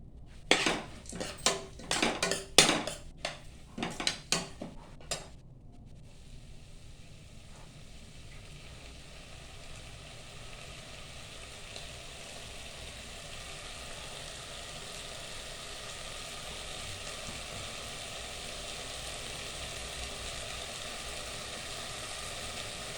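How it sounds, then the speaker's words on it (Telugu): Lentils (dal) frying in a pan for a bottle gourd dal, starting with a few seconds of metal utensil clatter against the pan, then a steady soft sizzle that continues alone. "పప్పును కొద్దిసేపు మంచిగా వేగనిద్దాం."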